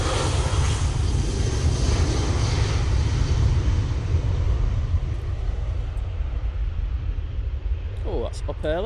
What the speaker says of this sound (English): Jet 2, 737-800 now on the roll.